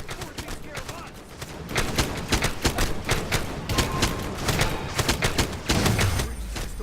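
Rapid turret gunfire in the LEGO Avengers video game, a steady stream of sharp repeated shots with scattered impacts, loud and continuous under game noise.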